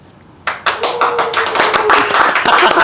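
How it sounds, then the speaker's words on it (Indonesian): Awkward clapping from studio hosts and a guest, starting abruptly after a quiet moment and continuing as a loose, uneven patter of close hand claps with no talk. "Emang gini, tepuk tangannya tepuk tangan awkward gitu."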